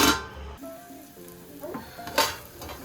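Wet fry pork stew for a Kenyan dish simmering in a pot, a soft steady sizzle with a few clinks and stirring knocks against the pot, fairly quiet and without talk.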